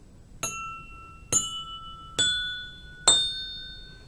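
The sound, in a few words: gently tapping glasses filled with different water levels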